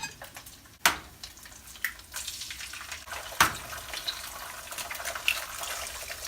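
Three eggs frying in a pan for Thai pad see ew noodles, a soft crackling sizzle with a couple of sharp clacks from the pan or utensil early on.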